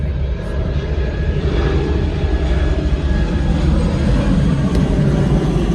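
Steady broadband engine roar of an airplane passing, continuous and fairly loud throughout, with no voices present.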